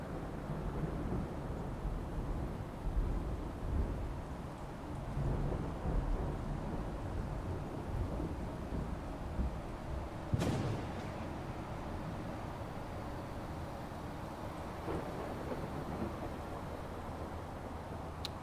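A simulated thunderstorm with rain in American Truck Simulator gives a soft steady rain hiss and low rumbling, then a sudden sharp thunder crack near the middle, all fairly faint and with no talking.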